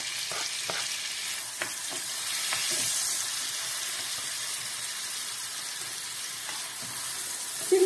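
Steady crackling sizzle of a finely chopped onion lightly frying in a pan for Tatar kystybyi, with a few soft clicks and scrapes of stirring scattered through.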